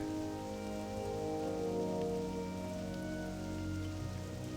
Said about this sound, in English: And the rain is back.